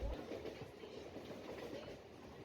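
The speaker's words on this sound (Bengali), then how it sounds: "এবার লিলুয়া স্টেশন ছেড়ে আমাদের ট্রেন বেলুড় স্টেশনের উদ্দেশ্যে" A Kolkata-area local train running between Liluah and Belur stations, heard from inside as a steady low rumble with soft clattering of the carriages, fairly faint and continuous.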